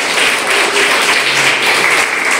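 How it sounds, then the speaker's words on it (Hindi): Children in a classroom clap together for a classmate, a steady, dense patter of small hands that keeps an even level from start to finish with no voices over it. "चलो सब कोई ताली बजाओ नंदिनी के लिए।"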